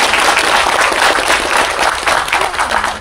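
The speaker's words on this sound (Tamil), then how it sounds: "அவருக்கு ஒரு மிக பெரிய கைத்தட்டல்" A large audience at a Tamil movie audio launch applauds, loud continuous clapping from many hands sustained throughout with no speech over it.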